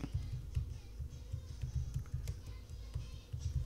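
Quick, irregular clatter of keys on a computer keyboard as a phrase is typed, soft and close with brief pauses between bursts, no voice.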